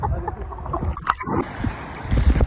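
A kayak paddles across shallow sea water off Agatti Island in Lakshadweep, with close, irregular paddle splashes and gurgles against a breezy open-air background.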